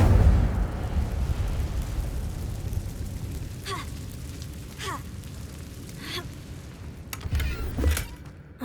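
A fiery Incendio spell blast from a Harry Potter video game bursts out loud and close, then settles into a rumbling roar with several sharp crackling pops over the following seconds.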